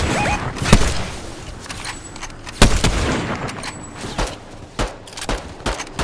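Enemy gunfire in a shooter video game: several sharp, separate shots spread unevenly across the stretch, a few loud and close and others fainter and distant, over steady game ambience.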